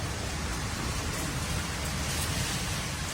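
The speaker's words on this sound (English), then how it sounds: "Heavy rain accompanied by hail and extremely strong winds" Heavy rain with hail pours down in a dense, steady hiss during a storm in Split, Croatia, constant and loud throughout with no pauses.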